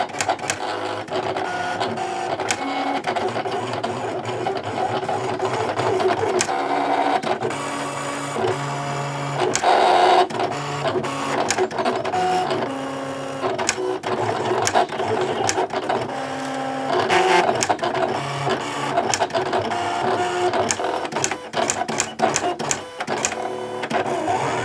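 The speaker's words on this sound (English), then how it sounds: "send the design to the machine so you guys can hear that cut" A Silhouette Cameo cutting machine cuts a design, a loud, whirring, stuttering motor sound with rapid mechanical buzzes and squeals that carries on steadily throughout, no talking.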